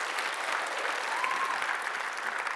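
Sustained applause from a conference audience fills the room, steady and dense clapping at moderate loudness without a break throughout.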